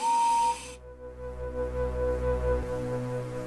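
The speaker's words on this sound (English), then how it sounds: "He reached a signal box and stopped, whistling for a road." A steam locomotive whistle on a model railway sounds once, a short shrill tonal blast, followed by a low steady engine hum and rumble.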